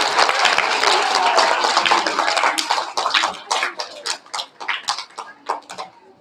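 Audience applause at a kindergarten and first-grade awards assembly for a class of good-citizen honorees, dense clapping from a crowd that thins into scattered individual claps before fading.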